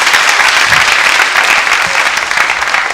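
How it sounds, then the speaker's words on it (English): Loud, dense applause fills a hall as a debate audience claps at the close of a motion debate on privatizing prisons, steady and sustained with no voices. "Let's give ourselves a big round of applause"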